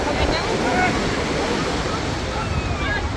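Sea waves wash up against a rocky shore near Dwarka, a steady loud roar of surf and churning salt water with gusty wind buffeting the microphone and faint voices in the background.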